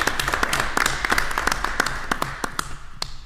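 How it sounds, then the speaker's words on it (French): Scattered hand claps at a town council meeting, a small group clapping sparsely and unevenly for about three seconds, tapering toward the end. "on peut applaudir ici."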